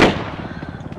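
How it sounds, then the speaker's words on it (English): An enemy's gunshot in a video game opens with a single loud crack and trails off into a rumbling echo. "He's shooting at me now."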